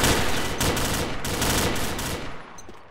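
Rapid bursts of gunfire in the video game Combat Arms crackle loudly for a couple of seconds in quick succession, then taper off with a fading tail.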